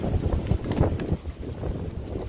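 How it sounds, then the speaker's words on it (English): Strong wind gusting outdoors in Kansas on a very windy day, buffeting the microphone with a low, rumbling roar that swells and dips throughout, loud and close. "one of the windiest days in Kansas to try to carve pumpkins"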